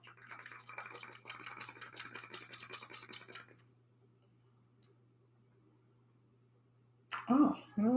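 A broken makeup setting spray bottle's pump clicks rapidly and repeatedly for a few seconds, a dry ratcheting rattle, then stops into near silence before a voice begins talking at the end.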